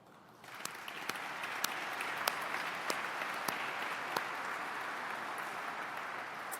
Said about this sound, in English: that, I suggest, is cause for applause